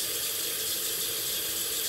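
Water runs steadily from a tap into a sink for rinsing after a shave, a continuous close hiss with no talk.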